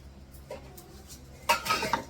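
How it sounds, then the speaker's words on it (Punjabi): Cumin seeds dropped into hot oil in a pan, giving a quick sizzle and metallic clatter of the utensil and pan late in the moment, after near-quiet. No one talks. "ਜੀਰਾ ਪਾਤਾ ਆਪਾਂ"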